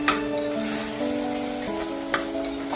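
Coriander-cumin powder, turmeric, Kashmiri red chilli powder and garam masala sizzle steadily in hot oil as tempering for a toor dal khichdi with whole garlic, a continuous close frying hiss with a couple of brief sharper spits.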